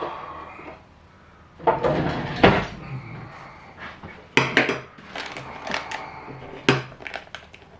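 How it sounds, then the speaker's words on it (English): Scissors cut open a yeast sachet for a farmhouse loaf with a few crisp, close snips and a sharp crinkle of packet material, separated by short quiet pauses in a kitchen. "I'm going to have to cut this with scissors."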